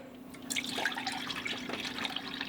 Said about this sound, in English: Now I'm going to sieve out the seeds.